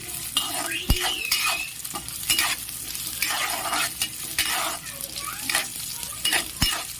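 Raisins frying in a pan for Basanti polao, stirred throughout: a steady close sizzle with repeated scraping strokes and a couple of sharp metallic clinks of the utensil against the pan.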